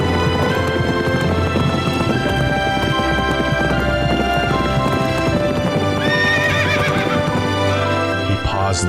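A horse neighs and whinnies over a steady clip-clop of hooves, loud and close throughout, with music-like tonal layers running beneath and a rising whinny near the end.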